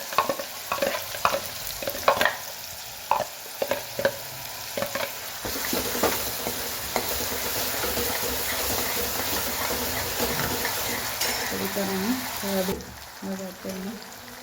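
Chopped onion and tomato sizzle and fry in a pan, with intermittent stirring clatter at first, then a steady, loud frying hiss that continues throughout.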